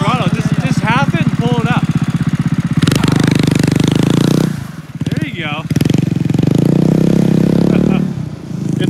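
Small tracked shredder vehicle engine running at half throttle, a steady loud buzzing drone that dips briefly midway, with voices talking over it.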